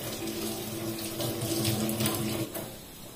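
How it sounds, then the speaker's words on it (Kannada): Water streams steadily through four small holes in a gasket, a continuous close splashing gush with no voices. "ಎಲ್ಲ 4 ಹೋಲಿಂದ ಕೂಡ ಚೆನ್ನಾಗಿ ನೀರು ರಟ್ಟುತ್ತದೆ ನೋಡಿ"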